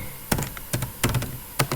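Keys tapped on a computer keyboard while a name is entered, a few separate clicks and short bursts, close and fairly clear, with no talking.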